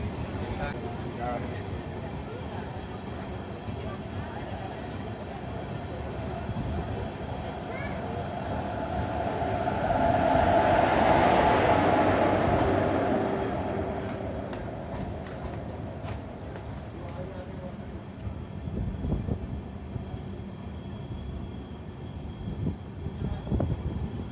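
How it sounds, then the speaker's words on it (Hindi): The Kasganj–Aishbagh Express rolls at restricted speed through dense forest, a steady rumble and rattle of the carriages heard from onboard, swelling to a louder passing roar midway while someone talks over it. "अब यहाँ से ट्रेन इसी रेस्ट्रिक्टेड स्पीड के साथ कुछ किलोमीटर तक चलेगी"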